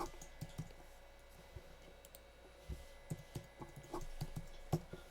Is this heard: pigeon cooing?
no